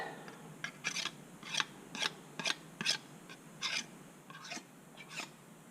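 Spoon or spatula scraping thick condensed milk from the inside of a metal can for donair sauce: about a dozen short, rasping strokes in an uneven rhythm, close and moderately loud, with no talking.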